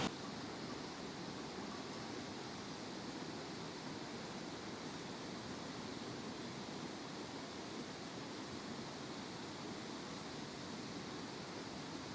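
A waterfall near Lauterbrunnen, Switzerland, gives a steady, even rush of falling water, faint and distant, unbroken for the whole stretch without voices.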